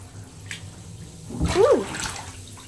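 Several bath bombs dropped together from a pan into a filled bathtub give a single splash and brief rush of water, with quiet room noise before and after.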